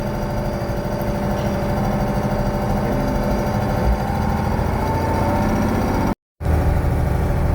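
A truck engine drones steadily while climbing a hill at about 10 km/h, a constant loud low rumble with slight variation, close and continuous, briefly cut out near the end before resuming.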